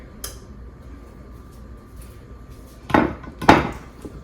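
Dry macaroni tipped into a buttered baking pan for smoked macaroni and cheese, giving two bursts of rattling, clattering pasta around the three-and-a-half-second mark after a brief click and quiet room tone.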